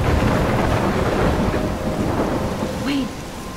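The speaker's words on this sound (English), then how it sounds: "I'm trapped in a storm?" A heavy thunderstorm from the video game Life is Strange, with steady loud rain pouring and a deep, continuous thunder rumble filling the scene. No one speaks.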